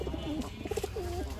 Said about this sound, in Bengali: এখন দেখাবো কিছু নিউ অ্যাডাল কিং কবুতর